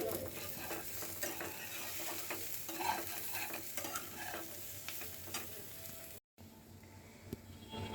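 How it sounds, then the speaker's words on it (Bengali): Dried fish (shutki) coated in turmeric, chili, coriander, lemon juice and ginger-garlic paste frying in a pan, a steady soft sizzle with stirring scrapes and a brief cut near the end. "এখানে শুটকিগুলা ভেজে নিচ্ছি"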